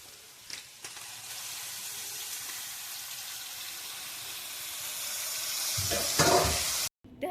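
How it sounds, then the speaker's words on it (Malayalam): Quail frying in a pan on a home stove, a steady broadband sizzle with stirring noises, a few sharper clatters and a louder hiss burst near the end before a brief cut. "ഇച്ചായൻ സൈഡിൽ നിന്നിട്ട് കാട വറുക്കുന്നുണ്ട്."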